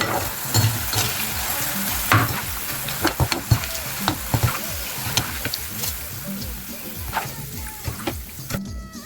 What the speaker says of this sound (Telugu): దగ్గరే ఉండి చక్కగా కలుపుతూ ఇట్లా వేయించుకోండి అప్పుడు చక్కగా వేగుతాయి